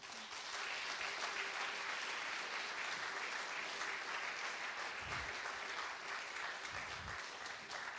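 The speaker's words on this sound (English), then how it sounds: "The Brotherhood would like you to give yourself a round of applause for coming along to hear their work." Audience at a poetry festival gives a sustained round of applause, dense and even clapping from many hands filling the room, with a couple of low thumps partway through.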